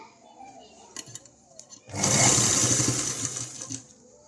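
A sewing machine stitches blouse sleeves, starting abruptly partway through and running as a loud, close, steady whir for about two seconds before slowing, with faint voices and small handling sounds before it.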